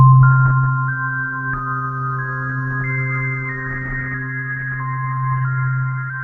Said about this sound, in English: I'm just going to strike just a middle C.